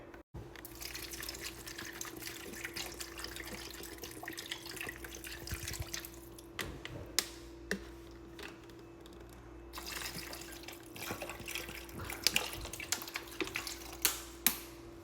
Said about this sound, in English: So I'm about to put 2 bottles of water in here.